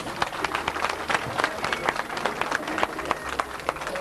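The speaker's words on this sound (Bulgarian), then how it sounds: "Аплодисменти, уважаеми гости!" Wedding guests clapping together in a steady, dense burst of applause, with scattered sharper claps throughout and some voices mixed in.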